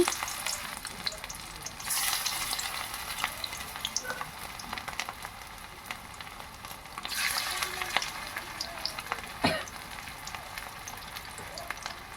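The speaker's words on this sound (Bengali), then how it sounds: "এবার একটু করে পকোড়া আমি ছেড়ে দিচ্ছি।" Potato pakoras fry in hot oil in a wok with a steady, quiet sizzle. Louder bursts of crackling and a few stirring clinks come at intervals.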